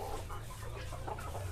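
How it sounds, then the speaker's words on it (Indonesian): Native village hens in a backyard poultry flock cluck in short, overlapping bursts over a steady low background hum, the soft calls repeating irregularly and moderately close, with no one speaking. "Ini kan indukan ayam kampung ini."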